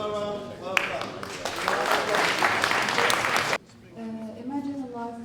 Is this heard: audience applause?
yes